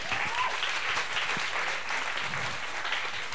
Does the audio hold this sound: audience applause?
yes